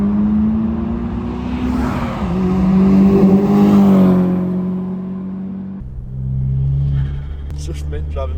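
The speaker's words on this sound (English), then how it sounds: "It's just me driving past Evans, man" A VW Caddy GTI with a TFSI engine drives past, its engine note swelling and changing pitch as it nears, then fading to a lower rumble, with brief noises at the end.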